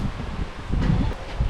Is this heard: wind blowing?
yes